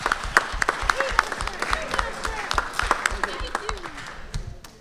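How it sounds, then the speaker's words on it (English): An audience applauds for several seconds, a dense spread of claps at even loudness that thins out and fades at the end, with a voice speaking over it. "Round of applause."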